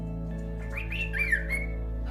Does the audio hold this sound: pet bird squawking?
yes